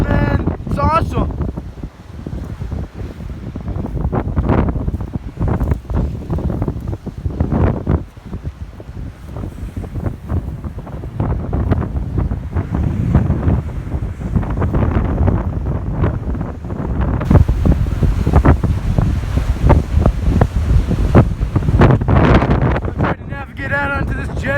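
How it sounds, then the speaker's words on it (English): Strong gusty wind at a beach near a jetty, roaring continuously into the microphone with heavy buffeting, waves crashing underneath, and someone talking through it. "Yeah, just crazy wind, man."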